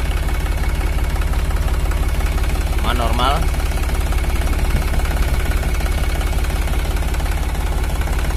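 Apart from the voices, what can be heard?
Iseki NT540F tractor engine running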